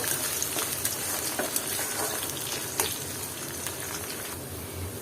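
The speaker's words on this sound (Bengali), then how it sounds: "আর রসুনটা দিয়ে এটাকে আমি আবারও নেড়ে ছেড়ে দিচ্ছি হালকা বাদামি রং করে নিব" Thick-cut garlic fries with onions in a pan and is stirred for a dried-fish bhuna. The close, steady crackling sizzle is dotted with sharp spatters and the scrape of a spatula, and no one speaks.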